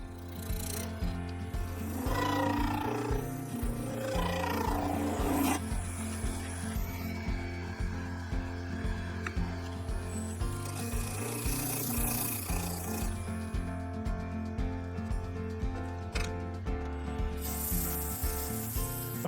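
A woodturning lathe levels the top of an ash bowl blank, with a steady rhythmic hum and a continuous rasping, scraping cut of the tool on the spinning wood, close and loud with no voices.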